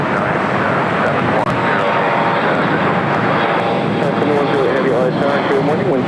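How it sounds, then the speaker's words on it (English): A United Airlines Boeing 737 MAX 8 arriving at LAX, a steady, loud jet roar that fills the scene throughout, with voices talking over it. "Next arrival is United Airlines Flight 502 coming in from Austin, Texas on the 737 MAX 8"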